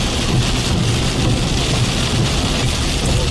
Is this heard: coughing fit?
no